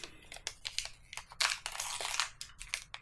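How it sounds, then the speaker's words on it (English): Wax-paper packaging holding a Legion remembrance poppy is pulled open by hand, giving a close run of crisp crinkles and tearing rustles in uneven bursts, loudest midway, with no talking. "So let's see if I can open this up."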